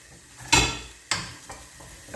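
Onions tossed into a pan over low heat for a bolognese sauce, with two sharp bursts of sizzling and stirring scrapes followed by a softer steady fry, close and alone.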